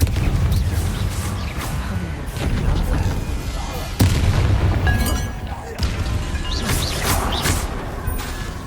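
Confringo fire spells blast repeatedly in Hogwarts Legacy, loud explosive booms and crashes landing every second or two amid game music and effects, with a voice talking over parts of it.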